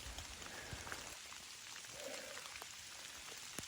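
Steady rain hisses down in a woodland rainstorm during a fall turkey hunt, a dense continuous patter of drops with occasional louder splats, fairly quiet and uninterrupted by voices.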